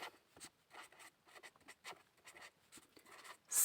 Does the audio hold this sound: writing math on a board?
yes